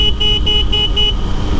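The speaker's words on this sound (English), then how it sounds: "I always honk my horn." Repeated short motorcycle horn toots beep in a steady rhythm over loud, rumbling road noise echoing inside a tunnel on Highway 2 at Stevens Pass.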